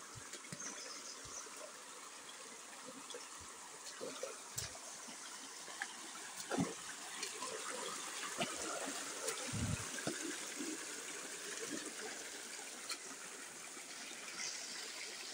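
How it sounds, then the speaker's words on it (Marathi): A hilly stream runs steadily with a soft trickling and burbling flow. It sounds faint and distant, with a few scattered knocks and bumps nearby and no talk. "ओढ्याला बघा किती पाणी आहे"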